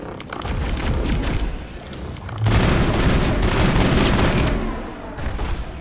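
Gunfire in the Mass Effect video game, with a steady rumble of shots and booms that swells into a louder, denser stretch midway before easing off.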